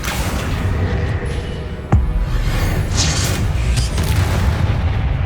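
A fiery spell explosion from the Hogwarts Legacy video game, a sharp booming blast near two seconds over a steady bed of rumbling game ambience, followed by further crackling magical effects.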